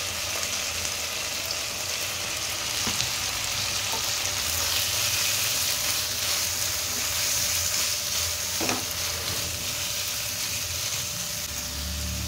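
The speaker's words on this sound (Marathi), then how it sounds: "वटाणा, शिमला मिर्च आणि बीन्स हे भाज्या आपण फ्राय करून घ्यायच्या आहेत" Green peas, capsicum and beans frying in a pan, a dense steady sizzle lasting throughout with occasional soft scrapes of stirring.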